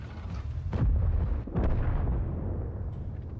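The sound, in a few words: tank gun firing in World of Tanks video game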